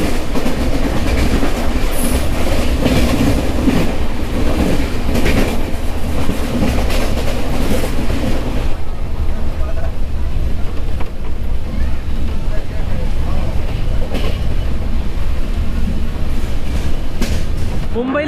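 The Marusagar Express, an Ernakulam–Ajmer sleeper-class train, pulls out of a station with a loud, continuous rumble and rolling clatter heard up close, holding steady throughout.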